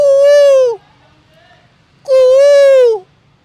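A voice imitates a koel's call in two long, clear, rising-then-falling "koo" notes separated by a pause of about a second; loud, close and whistle-like, with only faint background between the calls.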